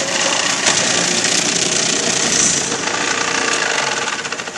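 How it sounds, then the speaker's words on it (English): A food processor shreds six carrots on the pulse setting, a loud, dense motor whir with grinding and rattling that holds steady and then sputters into quick pulses near the end. "I shredded 6 carrots in a matter of 10 seconds"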